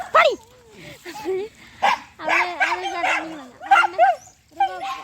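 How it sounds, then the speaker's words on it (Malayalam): A dog barks and yips in short, excited bursts close by, with whimpering tones between the calls. "കുരയ്ക്കുന്ന അവനെ ആദ്യമേ കുളിപ്പിക്കാത്തതുകൊണ്ടാണ് അവൻ കുരയ്ക്കുന്നത്"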